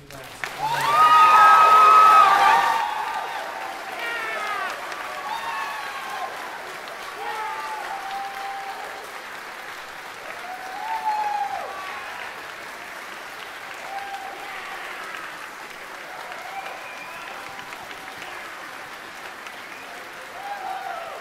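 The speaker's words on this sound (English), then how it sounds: "let's give a round of applause for our senior class" Audience applause fills a high school band spring concert, loud clapping for a couple of seconds that eases into lighter, sustained clapping with some cheering, while a voice speaks over part of it.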